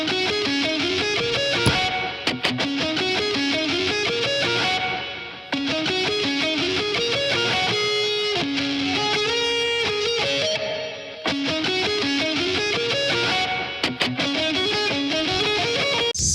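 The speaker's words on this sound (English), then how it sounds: "almost like in-your-face rocky guitars." A loud, aggressive, distorted electric guitar line from an R&B track plays a dense, repeating riff of sustained notes and chugs. It continues for several bars, briefly drops out a few times, and has no talking over it.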